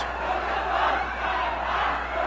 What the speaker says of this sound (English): you get scenes like this, with the crowd hurling abuse and curses at them